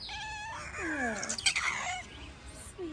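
Neighborhood cats gather for food, meowing in several drawn-out, rising and falling calls close by, overlapping each other over a few seconds.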